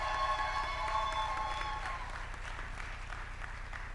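Steady applause from a festival audience at KITFEST 2024 as Martin Githinji is called up, dense clapping that holds for several seconds at a moderate level and thins slightly toward the end.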